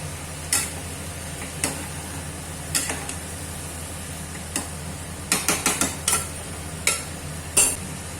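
A spoon scrapes and knocks against a pot while ash gourd is stirred with ginger and green chili paste, giving scattered sharp clicks and scrapes over a quiet background with no talk.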